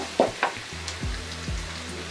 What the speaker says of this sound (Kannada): ಈಗ ಈರುಳ್ಳಿ ಕೂಡ ಚೆನ್ನಾಗಿ ಫ್ರೈ ಆಗಿದೆ.